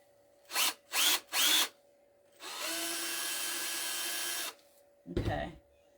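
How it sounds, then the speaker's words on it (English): A power drill whirs in a few short bursts while drilling a hole in styrofoam, then runs steadily for about two seconds before a brief scraping rattle at the end. "Then I'm going to drill a hole in here."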